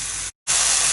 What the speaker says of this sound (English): as you can probably hear, that's browning really nicely